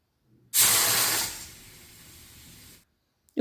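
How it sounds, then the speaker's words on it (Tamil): A pressure cooker of moong dal cooked with onion and turmeric lets off a sudden loud hiss of steam that fades to a steadier, softer rush for about two seconds, then stops abruptly. "ப்ரெஷர் ரிலீஸ் ஆகி பருப்பு நல்லா வெந்து வந்துருச்சு."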